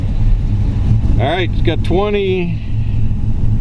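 A 1940 Ford pickup with a Ford 351 crate V8 idles with a steady, loud, close rumble throughout, as someone speaks briefly over the engine.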